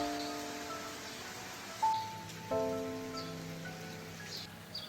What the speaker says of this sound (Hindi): तो ऐसे बारिश हो रही।